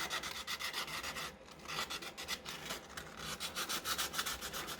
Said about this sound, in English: All I did was very lightly, I did a little buffing